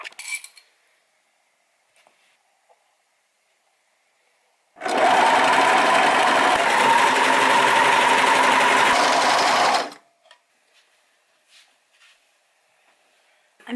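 A sewing machine stitches a dressing gown in one steady, loud, continuous run of about five seconds, with near silence before and after.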